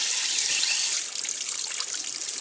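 Water squirts hard out of an RV water heater drain, a loud close steady hiss and splatter with no talking.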